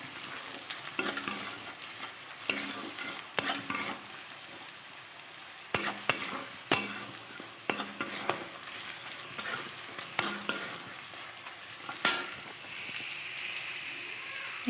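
Onion and garlic fry in a pan with salt and turmeric while being stirred, giving faint intermittent scraping strokes over a soft, steady sizzle.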